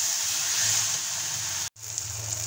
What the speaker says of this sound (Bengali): মশলাটা আরো ভেজে নিতে হবে।